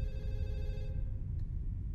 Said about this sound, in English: The phone ringing.